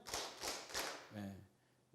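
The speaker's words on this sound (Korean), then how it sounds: "다시 박수 3번 시작." Church congregation clapping in unison on a pastor's cue during a Sunday service: three sharp, broad claps in a steady rhythm, each ringing briefly in the hall, followed by a short low voice and quiet room tone.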